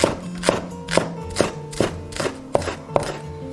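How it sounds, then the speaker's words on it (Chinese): A knife chops scallion whites into small pieces on a cutting board for salt-and-pepper pig trotters, about eight crisp, evenly spaced strikes in a steady rhythm, close and clear with no talking. "葱白切成小粒。"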